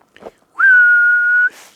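A person whistles one clear, sustained, steady note lasting about a second, imitating a Bigfoot whistle, loud and close, with a brief breathy sound before and after.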